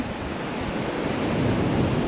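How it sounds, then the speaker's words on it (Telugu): Large waves crash and roll onto a beach in North Scotland, a dense, continuous roar of surf with wind noise, loud and unbroken throughout. "సముద్రం అయితే చాలా చాలా పోటెక్కింది పెద్ద పెద్ద అలలు"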